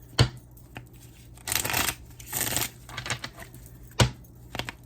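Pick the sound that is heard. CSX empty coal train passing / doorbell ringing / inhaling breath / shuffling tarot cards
shuffling tarot cards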